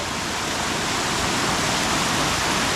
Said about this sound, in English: look, the whole hill here, all cascades